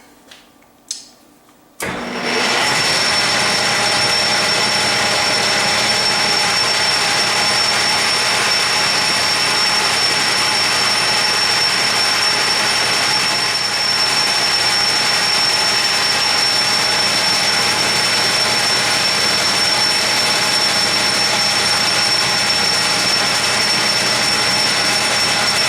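A lathe cuts a precision spindle, taking 30 thousandths per pass: after a brief pause a steady, loud machine drone with a high whine starts and runs continuously and evenly to the end.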